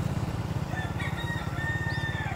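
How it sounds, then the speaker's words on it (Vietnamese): Chickens and a rooster crow and cluck at a house in Vietnam that raises fighting cocks, heard at moderate distance over steady rural background noise, with no talk. "Ở nhà này chuyên đá gà rồi, gà quá trời quá đất."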